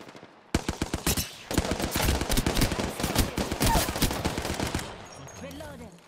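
Rapid automatic gunfire from a weapon in Apex Legends, loud, close and continuous, with dense bursts of shots over several seconds before it cuts off.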